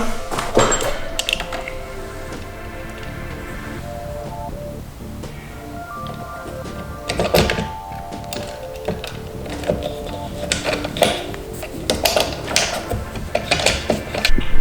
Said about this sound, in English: And then we can screw that back on.